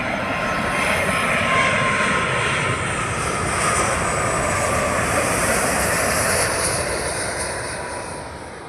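An airplane passes overhead above a village at dusk, a loud steady broadband engine roar that holds and then slowly fades toward the end.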